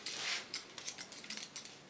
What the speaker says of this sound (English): I love the sound of the scissors